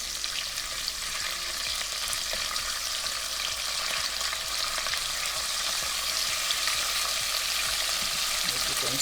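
Sliced andouille sausage fries in a pan for cornmeal with beans, giving a continuous, even sizzle with faint crackles throughout, close by and with no talking.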